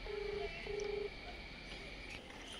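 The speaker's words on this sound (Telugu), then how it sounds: "ఫోన్ అయితే చేస్తున్నాం" A phone call is dialed, with two clear steady electronic tones in quick succession, faint and close, followed by quiet room noise.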